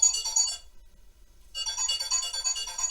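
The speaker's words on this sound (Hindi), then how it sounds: "एक सेकंड यार, किसी का फोन आ रहा है।" A phone ringtone plays loudly nearby in two bursts separated by a brief gap, with no one speaking over it.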